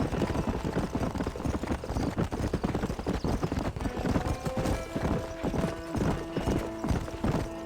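Horse hooves clip-clop steadily at a trot in a Western video game set around the town of Blackwater, loud and close, with the animal snorting and a faint whinny amid game sound.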